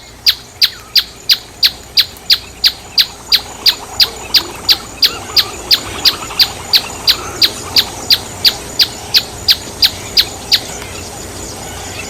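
A female bird calls near a nest of restless newborn chicks, giving a loud, close, steady series of sharp chirps at about two per second, repeated without a break.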